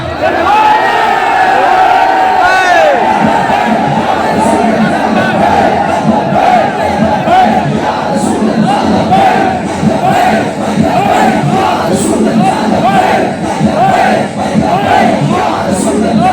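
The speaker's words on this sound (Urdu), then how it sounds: "نعرہ بند کرا دیں یار" A large crowd at a religious Urs gathering at Data Sahib shrine in Lahore chants slogans loudly and continuously in unison, with rhythmic swelling shouts throughout.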